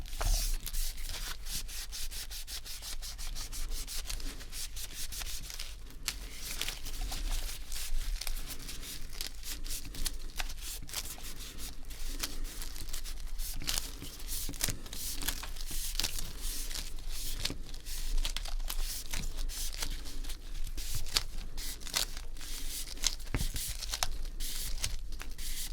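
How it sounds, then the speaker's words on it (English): Treated wipes rubbing grime off a dirty PlayStation 2 controller cable, a steady close-up scrubbing and crinkling texture that runs continuously at low volume with no voices. "Here's some treated wipes here, and this is going to get that dirty grime off"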